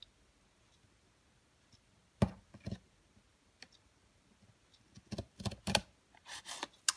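Scissors snipping card paper for a handmade packing box card, a few quiet isolated cuts followed by a cluster of crisp close snips in an otherwise silent room.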